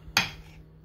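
A knife cuts homemade fudge into squares, giving one sharp, faint clink of metal against the dish that rings briefly and fades.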